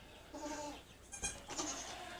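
A goat on a homestead bleats after a newborn kid's birth, a wavering cry followed by a second shorter bleat, close by and moderately quiet.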